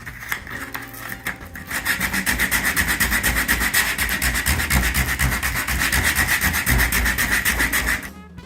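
Rapid, steady back-and-forth rasping of hand sanding along fiberglass kayak edges continues for several seconds, close and even in rhythm, with no voices.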